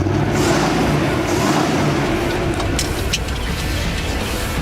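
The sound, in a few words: Holden Monaro 307 V8 engine burbling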